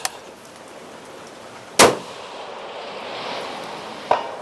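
A single sharp rifle shot from a precision rifle build firing factory ammo cracks loudly up close. About two seconds later comes a faint metallic ping of the bullet striking a distant steel target, over quiet outdoor ambience.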